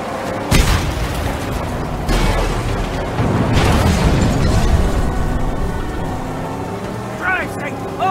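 Shotgun blasts and a fuel tank explosion in the Mad Max video game, heavy booms and bursts over a continuous rumble of vehicle engines, with people talking throughout.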